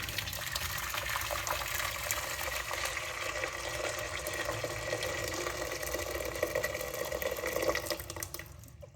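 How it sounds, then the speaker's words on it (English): Tap water gushes steadily into a saucepan for boiling hot dogs, a continuous close splashing fill that runs unbroken for several seconds before tailing off, with no talking. "Water into the pan."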